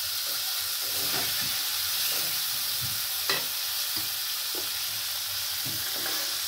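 Spice masala frying and sizzling in oil for a hilsa fish curry, with a steady hiss and occasional stirring scrapes and clinks, close and continuous with no talking.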